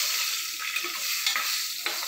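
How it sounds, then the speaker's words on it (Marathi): Spices with coriander powder frying in a pan for makhana chivda, a bright continuous close sizzle with faint scraping stirs and a few small clicks of the spoon. "आता हे छान असं फ्राय करून घेणार आहे"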